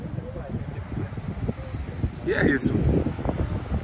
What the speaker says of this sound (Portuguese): Vai ficar um pouco barulho, mas é o devido ao vento, esse é o som